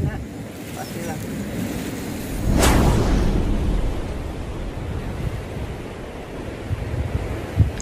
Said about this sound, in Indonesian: Hembusan angin dari lembah ke puncak yang membawa kabut seperti menciptakan sebuah gelombang terbang yang menakjubkan